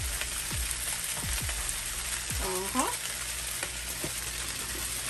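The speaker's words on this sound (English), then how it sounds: "let's toss our bacon back in there" Bacon sizzles loudly and steadily in a frying pan while pieces are tossed in, with several low thumps from food hitting the pan.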